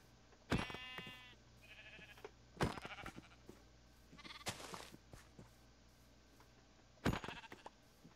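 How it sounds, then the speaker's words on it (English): Several sheep bleat in a Minecraft-style game, with a few separate loud calls spread over several seconds and quieter bleats and ambient game sounds in between. "So many sheep over here."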